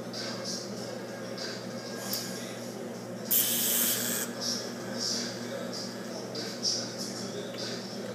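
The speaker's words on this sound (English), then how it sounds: "I'm going to tack it around 4 times before I then sequentially weld all the way around it." A brief TIG welding tack on a titanium tube makes a hissing burst of about a second amid a steady shielding-gas hiss and faint handling noises.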